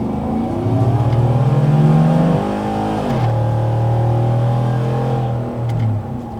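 A Chevrolet Silverado 5.3 pickup engine with a Texas Speed Stage 4 cam revs hard on a dyno and holds a high, steady roar, drops briefly, then climbs again into a sustained loud drone before easing off.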